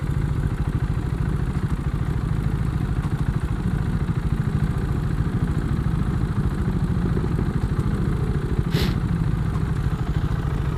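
A 2017 KTM Duke 125 motorcycle idles close by with a steady, even thrum and light mechanical clatter, continuing unbroken with one brief higher click near the end.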